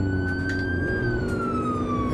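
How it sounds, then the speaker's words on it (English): A police car siren wails in a driving video game during a police chase through traffic, a steady rising and falling electronic tone over engine and road noise, loud and close. "Let's take the sirens off."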